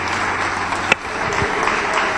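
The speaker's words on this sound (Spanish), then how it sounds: "Un aplauso para mis actores." Applause from a church congregation for actors after a performance, a steady dense clapping throughout with one sharp louder clap near the middle.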